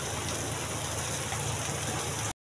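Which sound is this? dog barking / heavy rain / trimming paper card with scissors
heavy rain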